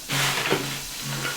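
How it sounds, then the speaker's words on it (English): Garlic hits a pot over low heat and sizzles with a steady, close frying hiss for a brief moment, no voices. "So now we're going to throw the garlic in the pot."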